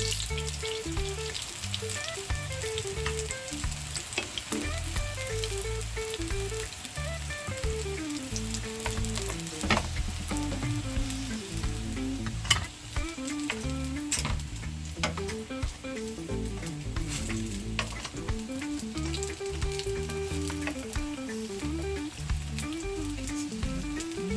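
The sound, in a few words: frying Jamaican breadfruit in a pan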